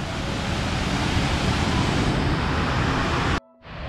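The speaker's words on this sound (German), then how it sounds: "dieser Fluss, der hier durchgeht, das ist alles der schmelzende Gletscher" Steady, loud rushing of a glacial meltwater river in Greenland fills the scene, a broad continuous wash that cuts off abruptly near the end.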